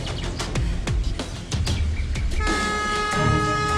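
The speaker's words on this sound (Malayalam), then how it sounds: "പാഞ്ഞു വരുന്ന ആ ട്രെയിനിന്റെ മുമ്പിലേക്ക് ഞാൻ ചാടുന്നത് കാണണോ?" A train rumbles past with rhythmic clacks from its wheels, then a sustained horn blares in the final second, loud and close.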